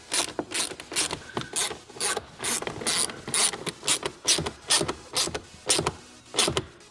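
Bolts are being tightened on a billet short shifter for a Toyota Supra R154 transmission, a close series of quick ratcheting clicks in regular bursts, repeating roughly every half second with no talking.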